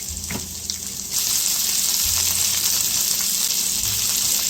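Slivered onions fry in olive oil in a pan, a steady bright sizzle that jumps louder after a quieter start and keeps crackling close up with no talk.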